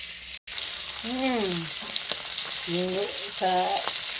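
Hotdog and lumpiang Shanghai frying in a pan, a continuous close hiss of sizzling oil running throughout, with a few tonal rising-and-falling squeaks over the top.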